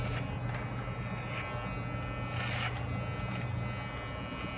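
Electric hair clippers cut a short, low, textured haircut, the comb tip pushed forward through the hair. A steady, fairly quiet buzz runs close and continuous throughout, with no talking.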